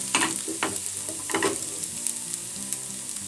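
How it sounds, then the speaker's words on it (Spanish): Garlic fries in a pan, a steady close sizzle and crackle with occasional stirring clatter, no talking. "Vamos a echarle el ajo, que se fría."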